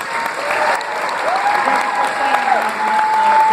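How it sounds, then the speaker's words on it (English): A convention crowd at a comic con panel applauds loudly and continuously, with dense sustained clapping and a faint voice underneath. "How about a round of applause for these guys?"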